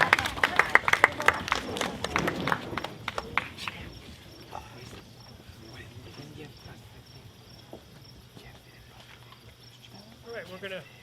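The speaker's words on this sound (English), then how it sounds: "Please give Tommy a round of applause" A crowd claps for an honoree at an evening candlelight gathering, a dense burst of applause that lasts about four seconds, then fades into quiet room sounds.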